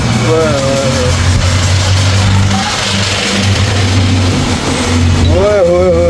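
Loud, continuous car engine running nearby with a steady rumbling hum, with pitch sweeps from other vehicle sounds or horns, while people talk over it.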